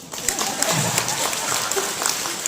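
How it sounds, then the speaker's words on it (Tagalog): An audience at the Sinulog Festival in Geneva, Switzerland, breaks into applause, a brief, dense burst of many hands clapping together at an even, lively level. "Palakpak naman, oh."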